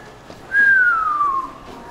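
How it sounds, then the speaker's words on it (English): A small whistle gives one clear, slightly falling tone lasting about a second, close and loud, at the Canoecopia paddle show in Madison, Wisconsin. "Did you have a little whistle?"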